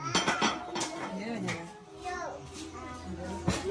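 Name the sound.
dishes being washed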